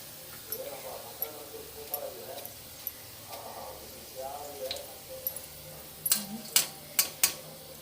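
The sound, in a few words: onions frying in a pan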